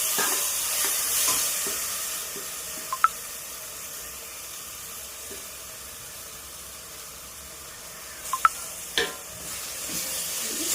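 Mashed eggplant, garlic, green chilli and tomato are stirred in a pan for baingan bharta, giving a soft, fairly quiet sizzle with occasional scrapes and clinks of the spoon and no talking.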